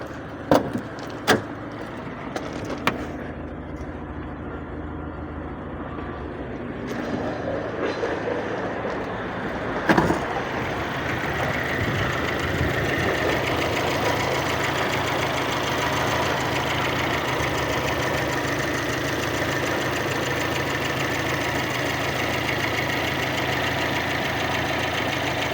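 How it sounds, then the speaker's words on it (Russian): A VAZ 2112 with a 2111 engine idles smoothly and evenly, a steady close mechanical drone holding unchanged, with a few sharp clicks early on. "Двигатель не дымит. Работает ровно."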